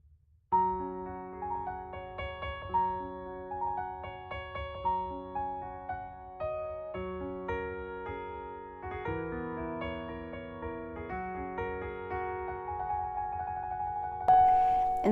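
Solo piano playing a short, gentle self-composed piece called The Butterfly: soft repeated melodic figures over sustained bass notes, quiet and steady for about fifteen seconds, with no talking.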